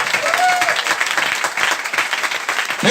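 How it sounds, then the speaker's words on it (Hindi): A seminar audience breaks into loud, dense applause that carries on steadily for the whole stretch, with many hands clapping at once and no pauses. "एक बार तालियां बजा के, स्टार रूबी 15 महीने में।"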